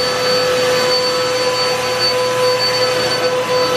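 A second household vacuum cleaner drones steadily and loudly up close, a constant whooshing roar with a thin high whine, running without pause and without voices.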